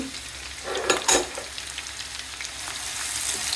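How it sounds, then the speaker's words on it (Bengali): Chopped onion, garlic and dry chilli frying in hot oil, with a near, steady sizzle and a couple of louder bursts and stirring scrapes early on. "তেল গরম হয়ে গিয়েছে দিয়ে দিচ্ছি পেঁয়াজ কুচি বাগার দেওয়ার জন্য দিয়ে দিচ্ছি রসুন আর শুকনা মরিচ"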